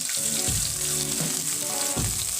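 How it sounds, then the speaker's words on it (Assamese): Chopped onion sizzles steadily in hot oil with cumin seeds, a close, continuous frying hiss with a few stirring scrapes breaking through, and no voices. "আৰু এইখিনি অকণমান ৰঙচুৱা হোৱালৈকে মই ভাজিম"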